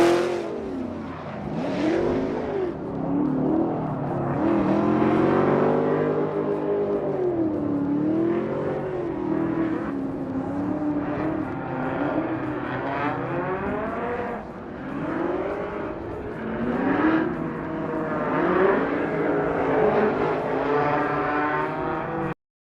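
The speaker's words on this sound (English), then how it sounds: "a lot of tires being burnt" Formula Drift cars at the Irwindale event, including a Nissan 370Z and a Spec Performance S15, rev hard and burn their tires, a dense, sustained engine roar with rising and falling pitch that runs the whole stretch.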